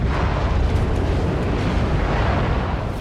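Warship explosion in the naval battle game World of Warships, a sustained loud rumbling blast that fills the whole moment with dense, roaring low-end noise and no speech.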